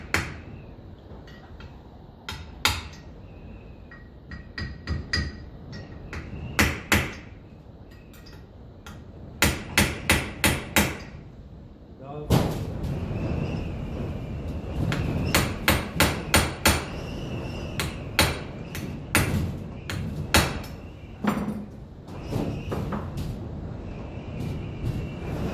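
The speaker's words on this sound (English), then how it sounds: "Favourite hammer." Hammer taps on parts being set level on a 1954 Ferguson TEF 20 diesel tractor, close and sharp, coming in short clustered bursts of several blows with pauses, then continuing over a steady workshop background.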